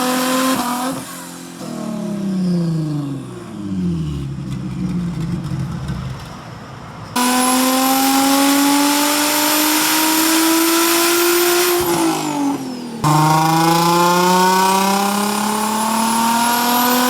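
Nissan G35 sedan with a rear-mounted turbo engine revving up close in three strong bursts, each climbing steadily in pitch before dropping off, with no talking.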